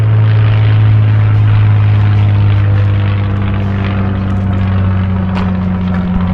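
Spitfire and Hurricane fighter planes fly overhead at a Battle of Britain event in Folkestone, their propeller engines a loud, steady, droning roar that holds throughout with little change.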